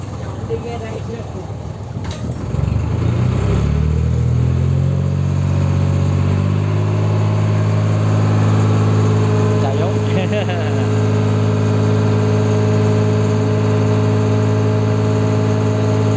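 A small boat's engine near Long Sơn, Vũng Tàu, starts after about two seconds and settles into a loud, steady, droning run close by, with voices at times over it.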